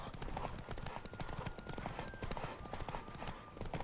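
Galloping hooves pound on without letup in The Witcher 3, a rapid clip-clop beat up close and loud over steady in-game ambience.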